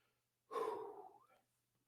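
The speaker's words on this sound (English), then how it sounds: "I'm going to take a real deep breath." A single deep breath, audible as one loud, close exhale that lasts about a second and trails off, alone in a quiet room.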